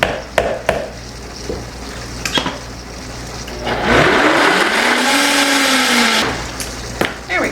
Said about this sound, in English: Got this in my blender, and we are going to give it a whirl.